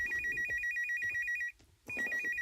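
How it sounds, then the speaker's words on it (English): A reception desk telephone rings nearby with an electronic trilling bell in two bursts, separated by a brief silent pause. No voices are heard over the ringing. "waiting to hear from Ray, the reception desk phone suddenly rang."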